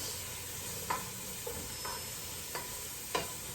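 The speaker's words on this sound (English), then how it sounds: "now we're gonna start sauteing this celery in here with it" Celery sautés in a pot for chicken gnocchi soup with a soft, steady sizzle, and a few light spoon scrapes and taps come at irregular intervals. It sounds fairly faint, with no talking.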